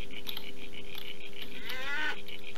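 Sheep bleating in the Jurassic Park Operation Genesis park-building game, a short bleat rising near the end over a steady hum of ambient game sound and music, with no talking.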